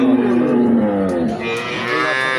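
A cow moos loudly at a cattle market, her week-old Red Friesian heifer calf beside her; one long, drawn-out lowing call that shifts pitch midway and fills the whole moment, close and clear with no talking.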